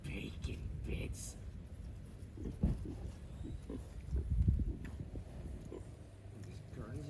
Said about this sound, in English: These Guernsey pigs.